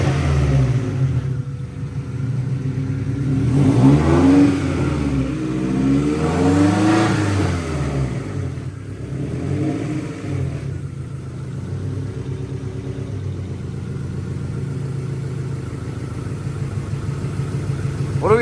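A Honda Integra engine, with a suspected fault, revs up and down a few times, rising and falling in pitch, then settles into a steady, low idle around 800 rpm.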